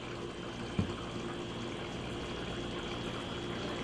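Water pours in a steady, continuous stream into a cooking pot of oxtails and beef, with a brief knock near the start.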